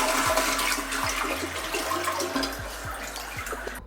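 A toilet in a fixer-upper house flushes, rushing and gurgling water running close and steady, tapering off near the end.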